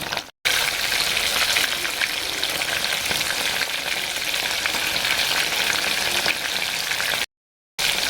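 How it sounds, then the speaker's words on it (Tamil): Prawns frying in a pan over a slow flame for a restaurant-style golden prawn fry: a steady, close sizzle that runs nearly unbroken, with two brief gaps of silence. "ஸ்லோ ஃப்ளேமில் கரெக்டாக குக் ஆகும் ப்ரான்ஸ்"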